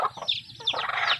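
A Rhode Island Red hen clucks a few times nearby, short throaty calls in a quick burst, with no talking.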